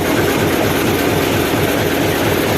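Isuzu 10PD diesel dump truck engine running after a start, a loud, steady, close-up rumble with a dense mechanical clatter throughout and no voices.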